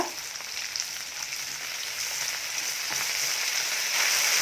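Chopped tomato added to dried fish frying in a pan, giving a steady, loud, close sizzle of hot oil that grows slightly stronger toward the end, with no voices.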